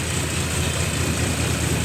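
A tractor drives a Param side-basket thresher in an ajwain crop, with the tractor in 540 PTO gear at roughly 1150 rpm. Its loud, steady, dense mechanical roar is close and holds unchanged throughout.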